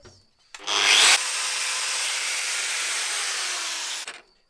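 A handheld power grinder starts up and runs steadily for about three and a half seconds, giving a loud, close, abrasive whine that cuts off abruptly, with no voices.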